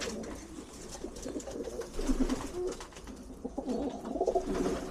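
Several domestic pigeons, including a blue cock, coo in a loft in soft, repeated rolling phrases, with a few nearby birds overlapping amid low background rustle.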